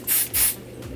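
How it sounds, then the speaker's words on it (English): Two quick bursts from a spray bottle onto a wig's lace hairline, close and sharp, followed by quiet. "Spray this on my hairline because you can still see a white cast."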